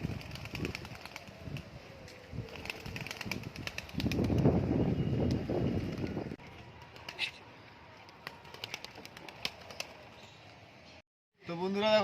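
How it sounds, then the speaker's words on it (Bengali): Just-released pigeons take off in a burst of close, rapid wing flapping midway through, surrounded by quieter rustling and occasional voices in the background. "পায়রা সবে ছাড়লাম"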